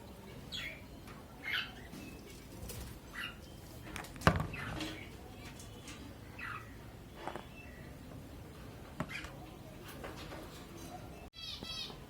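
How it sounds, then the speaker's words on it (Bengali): Pet cockatiels and budgerigars kept in pairs give scattered short chirps and tweets, some sharp and close, others faint, over a low room background with occasional clicks and rustling. "এখানে একটা বদ্রির পেয়ার আছে, এইখানে আরেকটা বদ্রির পেয়ার আছে।"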